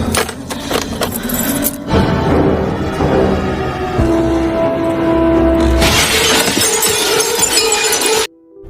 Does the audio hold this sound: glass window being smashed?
yes